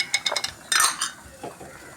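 A spoon stirring masala powder into onions in a pan for an Indian egg roast: a few quick metallic scrapes and taps against the pan, then a brighter clatter and a softer scrape, close and alone.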